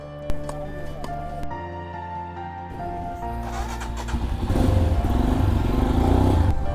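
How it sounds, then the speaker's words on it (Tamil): A Royal Enfield Himalayan motorcycle on a ride through Meghalaya starts with a steady engine note, then revs up into a louder, rougher roar toward the end, heard close with no talk. "ஒரு அழகான பைக்"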